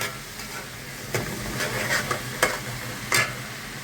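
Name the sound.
onions cooking in ghee in a pan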